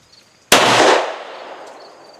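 A single sharp, loud gunshot from a Walther P1/P38 9mm pistol cracks out at close range and is followed by a fading echo, with no voices.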